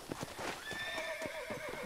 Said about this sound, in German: Mein Pferd dreht durch.